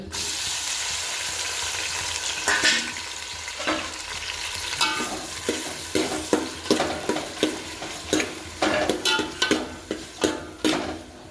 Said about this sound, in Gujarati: તો ડુંગળી અને મરચાં આપણે લઈ લીધા છે. તો એને વઘાર મારીશું આપણે.